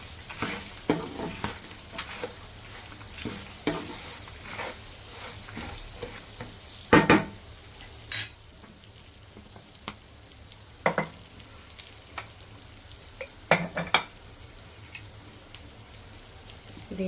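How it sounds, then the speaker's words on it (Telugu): Red chillies, garlic and coriander seeds roast in a wide pan with a steady dry sizzle, broken by repeated sharp scrapes and clacks of stirring spread through the whole stretch. "నాకు పెనం కొంచెం పెద్దగా ఉంది కాబట్టి నేను దీంట్లోనే వేసేసి వేయించేస్తున్నాను."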